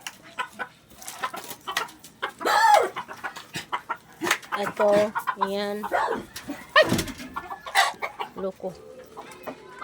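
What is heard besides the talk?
chicken clucking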